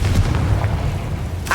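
The Confringo fire spell blasts in Hogwarts Legacy with a deep rumbling boom that rolls on under a low drone, followed by a sharp burst near the end.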